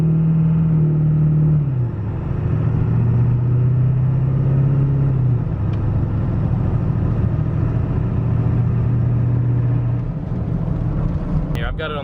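A 500 hp Ford 7.3 OBS diesel truck pulls at half throttle with a steady, loud engine drone whose pitch shifts with the gears, heard from inside the cab, under an undertone of talk.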